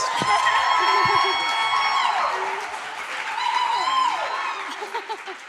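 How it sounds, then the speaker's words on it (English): An event audience applauds and cheers for the creators of Creative Babes, a loud burst of crowd noise with whoops and shouts that fades somewhat midway, then swells again toward the end. "Please give them a round of applause."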